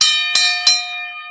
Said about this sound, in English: Let me hit the gong.